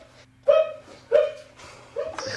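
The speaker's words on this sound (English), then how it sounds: "So I can hear a dog too." A dog gives three short barks or yips in a row, moderately loud and slightly distant, heard over a steady electrical hum.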